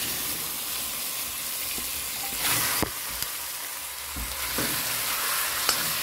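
Dumplings fry in hot oil in a pan for an iguana meal, a steady close sizzle broken by a few sharp crackles and pops as they are stirred, with no voices.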